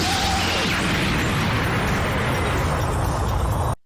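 Vegeta's Big Bang Attack detonates in the video game Dragon Ball Z Budokai, a loud sustained roaring explosion with a rushing, crackling blast that holds steady for several seconds before cutting off abruptly.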